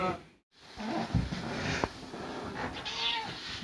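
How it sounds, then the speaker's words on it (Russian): A cat meows close by, a drawn-out plaintive call followed by softer vocal murmurs, with no talking. "Кошка не оставляет надежды проникнуть в свою комнату"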